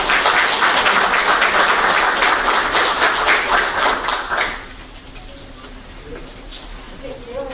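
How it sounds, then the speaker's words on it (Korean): Audience applause at a ceremony announcing the final candidate site for Yeoju's administrative complex, a dense burst of clapping for about four seconds that fades into a quieter room with faint scattered sounds. "큰 박수 부탁드립니다"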